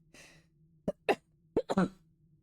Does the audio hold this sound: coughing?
yes